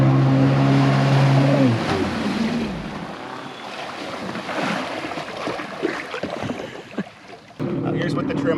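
A 2021 Sea-Doo Spark Trixx personal watercraft accelerates on open water with the trim all the way up, its engine note rising and then dropping amid splashing waves and wind. A voice talks over it near the start.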